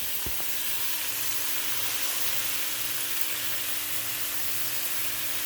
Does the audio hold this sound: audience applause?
no